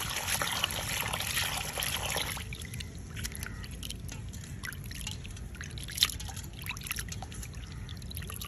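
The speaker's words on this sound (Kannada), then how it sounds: "ತೆಂಗಿನೆಣ್ಣೆ ಹಾಕ್ತಾ ಇದ್ದೀನಿ." Coconut oil is poured into a pan in a home kitchen for a prawn masala, with a brief rushing pour at the start. Soft drips and light trickling follow, quiet and close.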